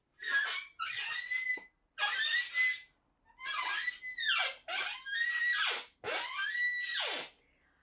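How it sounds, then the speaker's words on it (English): A badly squeaking office chair gives a series of loud, high-pitched squeals and shrieks in long bursts with short gaps between them, sounding like squealing pigs. "I don't think your office chair is supposed to sound like a bunch of dying pigs."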